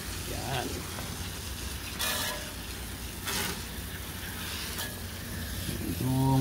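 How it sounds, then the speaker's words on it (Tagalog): A garden hose sprays water over the outdoor unit of a split-type air conditioner during cleaning, a steady hissing wash with a few louder bursts of splashing; a voice talks intermittently over it. "Kahit hindi po masyadong malakas tong hose na to, nakakalinis na po siya."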